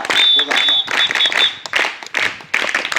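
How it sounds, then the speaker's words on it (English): Audience clapping at a school Children's Day celebration, dense and continuous applause broken by short dips, with a voice speaking over it. "Nothing but your claps."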